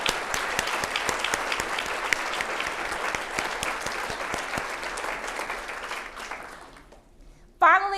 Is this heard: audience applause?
yes